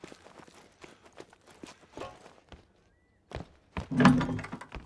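A door opens in the hunting game theHunter: Call of the Wild, heard as a few soft thumps and a louder wooden knock near the end, following quiet footsteps with no talking.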